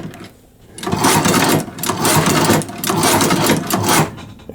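A low-cost leather sewing machine stitches a back stitch, giving a steady mechanical whirring run in several pulses with brief pauses between them, close and fairly loud.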